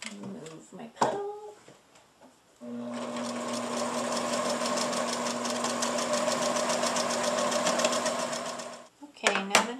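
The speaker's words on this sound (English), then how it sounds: "So I am going to get sewing on this." A sewing machine runs steadily for several seconds, stitching fabric for a warming abdomen pack, with a close, loud, even mechanical whir. Brief clicks and handling noises come before and after the run.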